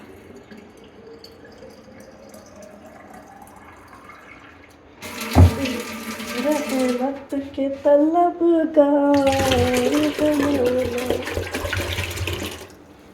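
Tap water running into a pot at home, a broad steady rush in two bursts under chanted prayer and a voice.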